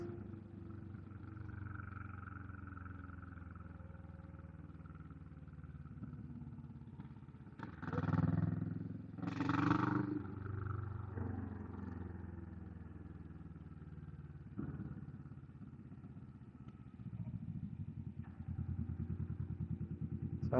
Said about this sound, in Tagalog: So that's the sports bike just behind me